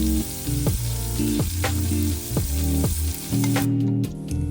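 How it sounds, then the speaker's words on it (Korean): Shrimp sizzle loudly in a frying pan after being flipped, a dense, steady crackle joined by clunking pan sounds and stirring. Background music plays throughout. "새우를 뒤집어서 뒷면도 고르게 익혀줄게요."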